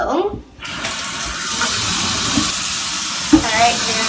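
Tap water runs steadily into a pot holding corn on the cob in a home kitchen, a close, continuous hissing splash that begins after a brief knock and holds without a break, with a faint clunk near the end.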